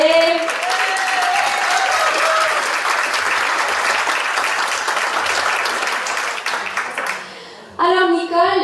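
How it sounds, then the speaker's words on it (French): Studio audience applause for a returning guest on a French television variety show, a loud sustained roar of clapping that fades near the end, briefly dips, then swells again as music or voices return. "Sous vos applaudissements, s'il vous plaît."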